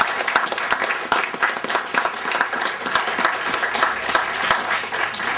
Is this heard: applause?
yes